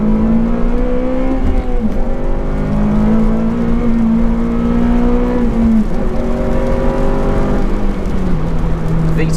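A 2007 Honda Civic Type R FN2 in Milano Red revs hard in second gear, its steady high engine note climbing and dipping through repeated rises, loud and close with no talk over it.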